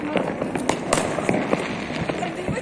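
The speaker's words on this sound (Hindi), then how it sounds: "अरे पटाखे फट रहे ना" Diwali firecrackers burst repeatedly nearby and farther off, a rapid irregular string of sharp pops and cracks over a busy outdoor background, with people talking.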